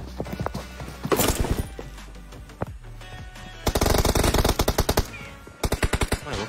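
Bursts of automatic gunfire in the mobile battle game PUBG Mobile: loud rapid rattling volleys separated by short pauses, with a few single shots between them and no talk.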